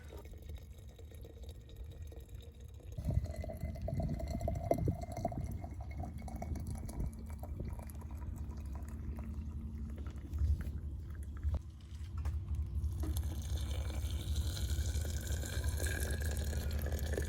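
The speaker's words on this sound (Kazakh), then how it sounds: "Шайнекпен қайнап тұрған суымды мінеки алып келіп," Boiling water from a kettle pours into a glass jar of cherries for compote, a steady close-up splashing stream that starts after a short pause and runs on continuously.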